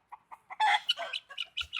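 Farm chickens cluck in quick, close bursts of short calls while being herded on a homestead by a dog, with one louder squawk partway through.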